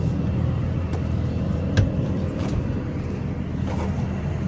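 A 1967 Chevrolet Camaro with a 275 hp engine, four-speed and electronic fuel pump idles steadily, a low continuous rumble at moderate distance, with a couple of brief clicks and no talking.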